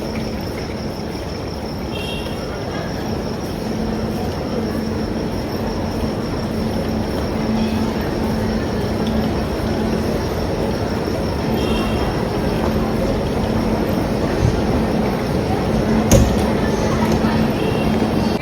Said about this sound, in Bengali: হাওড়া স্টেশনের অবস্থা, সবাই এখন ওয়েটিংয়ে আছে